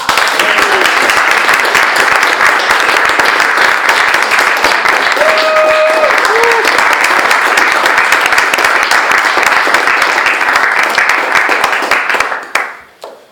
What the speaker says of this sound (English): Thank you very much for this huge applause.